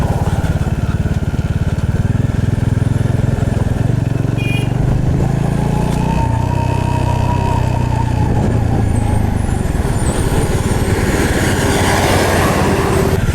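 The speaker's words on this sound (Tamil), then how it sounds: "பாருங்கள், லைனாக வண்டி வந்துக்கிட்டே இருக்குது." A steady line of lorries and other vehicles drives past on a hill road near Sathyamangalam, their engines rumbling loudly and continuously nearby, with one louder engine rising toward the end.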